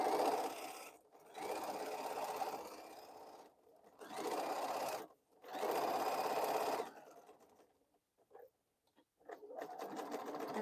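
Sewing machine chain piecing fabric bowl cozies, three long steady whirring runs split by short pauses, then a few brief stop-start bursts, close and clear.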